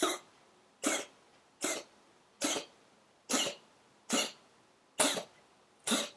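Eight short throat-clearing hacks repeat at a steady pace, each one close and sharp, with quiet pauses in between.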